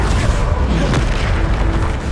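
A Bombarda spell explodes in Hogwarts Legacy: a heavy, booming blast with a dense low rumble that fills the whole moment loudly and close, with no talking over it.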